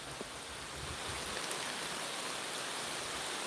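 Heavy rain pours down steadily outdoors where someone is fishing before a storm, a dense, even hiss with no other sound.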